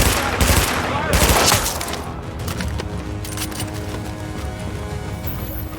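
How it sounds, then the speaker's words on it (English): Rapid bursts of gunfire from The Division video game, loud and dense in the first couple of seconds, then thinning into scattered shots and game ambience with some faint voice in the mix. "Yeah, some nice shooting there."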